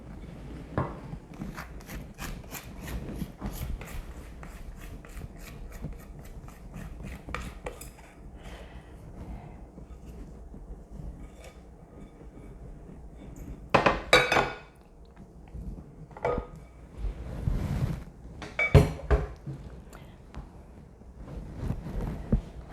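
Cornbread batter is scraped and spooned from a bowl into a baking pan, giving soft repeated scrapes, light taps and occasional clinks of utensil on dish, close up, with a few louder knocks toward the end.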